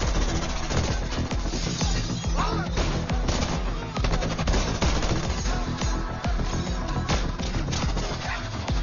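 Gunfire in a movie shootout between mafia men, dense and loud, with rapid overlapping shots and bursts cracking continuously for the whole stretch, close and busy with no pause.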